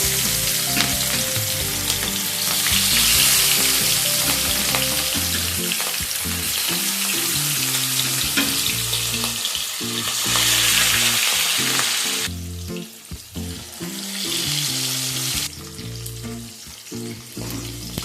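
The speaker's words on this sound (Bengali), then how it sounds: "তেল ভালো মতো গরম হয়ে গেলে এর মধ্যে আমি মাছের পিসগুলো দিয়ে দেবো।" Fish pieces fry in hot mustard oil with a loud, steady sizzle and crackle, continuing for a long stretch with brief dips and no talking.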